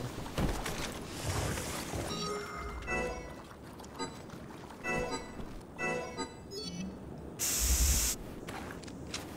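Healing spray used in Resident Evil 6 gives a loud, short hissing burst near the end, amid gameplay noise with scattered impacts and tonal game sounds.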